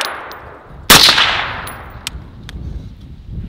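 A rifle fitted with a Surefire SOCOM RC2 suppressor fires one sharp, loud, close shot that decays over about a second, followed by fainter metallic clicks and clinks, with no talking.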